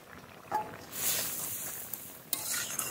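Vegetable chorchori of potato and stalks sizzles in oil in a pan, a soft continuous frying hiss broken by a few scraping stirs and light clinks, close and moderately quiet.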